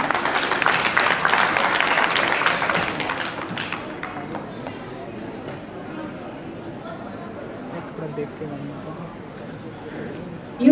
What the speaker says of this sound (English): can we have just once again a big round of applause for all the lovely participants?